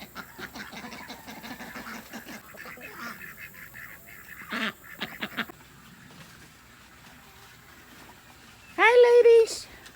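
Chickens, ducks and guinea fowl call in a backyard flock, with scattered clucks and squawks through the clip and a loud, nearby honking burst near the end.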